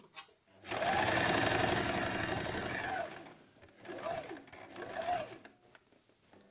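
A sewing machine stitches elastic-waist trousers in a steady, close whir for about two seconds. Shorter bursts follow as the seam runs forward and back, and someone speaks quietly under the machine.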